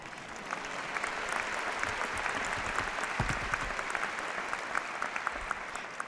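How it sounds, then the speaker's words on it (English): A large commencement crowd in the Dean Dome arena claps steadily and evenly for several seconds, a broad wash of many hands at a moderate distance with no voices standing out. "Yeah, you can clap for that"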